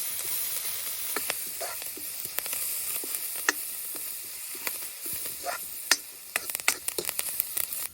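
Onion and curry leaves fry in hot coconut oil with a loud, continuous sizzle and hiss, while occasional sharp clicks and pops from stirring cut through it, with no talking.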